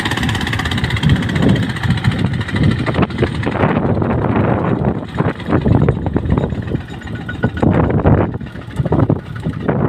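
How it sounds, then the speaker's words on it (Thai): Strong wind roars and buffets the microphone continuously during a ride up a steep road on an RT155, a loud, rough rumble with gusty surges throughout. "นี่ก็แรงมากเลยลมอ่ะ"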